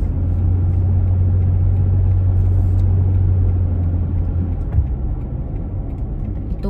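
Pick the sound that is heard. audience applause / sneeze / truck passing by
truck passing by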